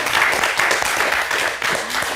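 Brief burst of clapping from a small group during a golf stretching lesson, close and fairly loud, lasting about two seconds.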